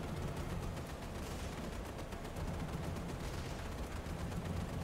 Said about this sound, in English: We're prepped and ready to fire. Start firing at these guys.